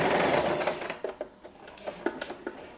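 A sewing machine stitches a straight seam along fabric for a ruffle headband, starting with a loud continuous whir that gives way to a run of short, quieter mechanical ticks and clicks, close up with no talking.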